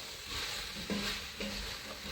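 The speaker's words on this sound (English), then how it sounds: "I'm going to give that all a nice stir" Potatoes stirred into a pot of beef stew with vegetable stock to come, a soft scraping stir over a low sizzle that runs steadily for a couple of seconds, close and quiet.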